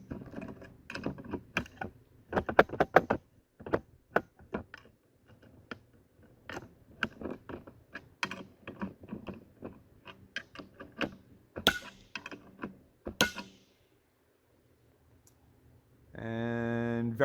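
A Primary Arms GLx cantilever AR mount is pushed into place and its screws snugged and torqued, producing a run of sharp, irregular close clicks and ticks, a short silence, then a brief buzzing tone at the end.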